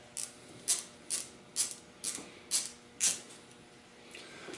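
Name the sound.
removing motorcycle bar end weights with T25 Torx driver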